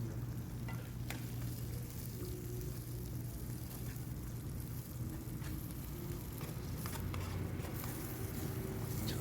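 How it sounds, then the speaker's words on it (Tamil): Semolina laddu mixture fries in a pan with a steady, close sizzle, broken by faint scrapes and stirring taps, and no voice over it. "So fry பண்ணிகிட்ருக்குறேன்."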